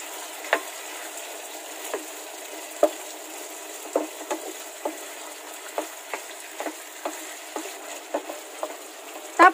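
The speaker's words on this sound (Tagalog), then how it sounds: "niluluto ko lang to on high flame para mas mabilis ma-absorb ng pork yung ating nilagay na oyster sauce" Pork frying over high flame with oyster sauce, stirred in a pan: a steady sizzle runs throughout, broken by a dozen or so sharp utensil scrapes and taps, no voices.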